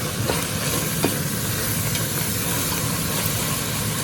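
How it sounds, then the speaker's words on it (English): Chilli ingredients sautéing in a pan with their juices, a steady close sizzle and hiss with occasional stirring scrapes, no talking. "And just continue sauteing."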